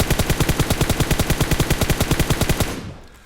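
Fast automatic rifle fire at a 50-metre training target in PUBG Mobile, about twenty evenly spaced loud shots in one sustained burst that stops abruptly and fades.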